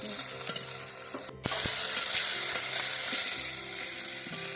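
Onions, tomatoes and green chillies fry in oil for a chicken curry, giving a steady, fairly loud sizzle that drops out for a moment early on and then resumes strongly.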